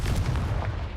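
In the Hogwarts Legacy video game, a Confringo spell sets off one loud, rumbling explosion that fills the whole brief moment.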